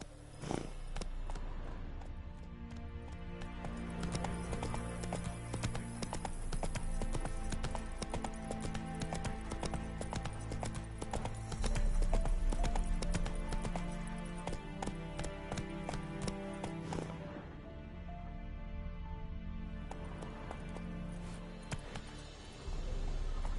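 Horse hooves clip-clop in The Witcher 3, a rapid, steady galloping rhythm that runs on continuously under game music and ambience, slowing near the end.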